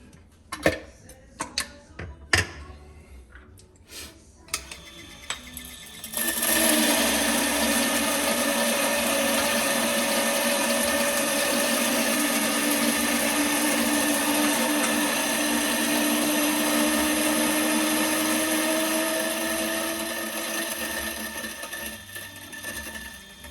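An electric coffee grinder in a home espresso setup grinds coffee beans with a loud, steady whirring drone that runs for about fifteen seconds, preceded by a few sharp clicks and knocks, then tapers off.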